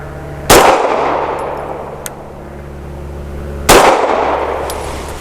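Two loud pistol shots from a BUL Armory Axe FS Cleaver firing Winchester Elite Defender 147 grain nickel-plated rounds, spaced about three seconds apart, each a sharp crack with a ringing tail, and a faint click between them.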